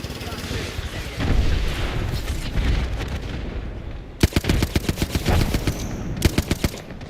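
Rapid video game gunfire with a murky stretch of shooting and booms early on, then sharp, loud bursts of automatic fire in quick strings, with radio-style voice callouts mixed in.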